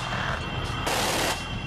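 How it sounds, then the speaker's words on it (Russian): Automatic cannons fire in a continuous, loud, roaring burst of rapid shots with no gaps between them, with no voices over the gunfire. "Не менее впечатляющая стрельба автоматическими пушками."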